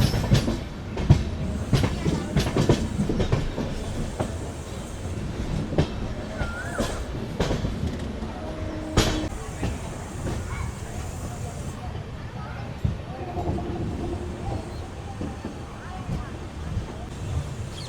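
Narasapur–Tirupati express train rolling into Gudivada Junction, a steady rumble with rattling carriage noise and sharp clanks over the rails, heard from on board.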